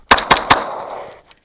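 Three sharp pistol shots fired at a target in quick, evenly spaced succession, loud and close, each leaving a short ringing decay.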